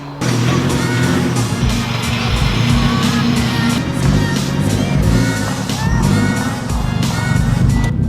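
A turbocharged K20-powered Honda Civic on a test drive, its engine droning loudly and steadily close by with shifting revs throughout, while voices talk faintly beneath the noise.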